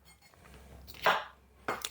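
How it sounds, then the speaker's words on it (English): Knife roughly chopping fresh vegetables on a cutting board for a jerk salmon marinade, two sharp clustered bursts of close chopping with quiet pauses between and no talk. "just cut them, rough chop these."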